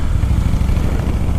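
A motorcycle used as an around-town bike runs with a steady, close, low rumble throughout, with no noticeable change in pace and no talking.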